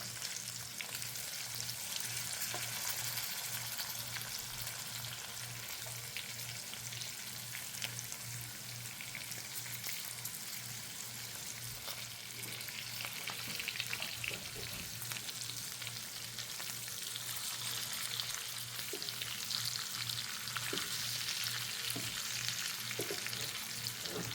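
Fish fries in a pan with tamarind water, giving a steady, close, unbroken sizzle that holds an even level throughout, with no voices.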